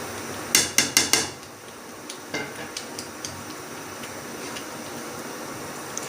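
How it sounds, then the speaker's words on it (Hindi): Chicken and ground spice paste of onion, tomato, chili, ginger and garlic go into a cooking pot for biryani, with a quick run of four sharp metal clanks up front, then lighter scattered taps and a soft background hiss. "अब हम इसके अंदर चिकन ऐड करेंगे।"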